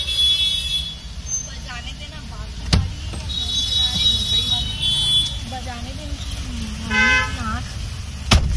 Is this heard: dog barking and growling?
no